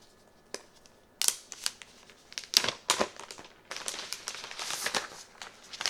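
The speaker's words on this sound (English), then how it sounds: "I'm going to take out this plastic wrap." Plastic wrap is peeled and pulled off an Apple Magic Keyboard with numeric keypad, giving close, crisp crinkling and tearing in irregular bursts, with no talking.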